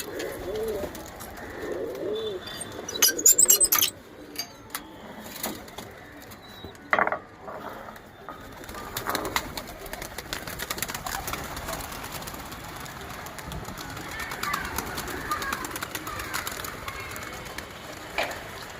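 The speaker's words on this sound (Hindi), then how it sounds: "बाकी के अपने सारे कबूतरों को निकालते हैं बाहर" Pigeons coo softly on a rooftop, their low murmurs mixing with scattered taps, rustles and handling noises close by, and no talking.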